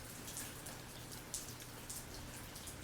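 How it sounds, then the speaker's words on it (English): Steady rainfall patters down with scattered louder drops striking a surface, a continuous wet hiss at low level with no voices. "it was raining just like this"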